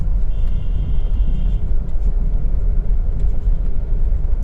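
Car pulling forward on a narrow road as the driver presses the accelerator, a steady low engine and road rumble running close throughout with no voices.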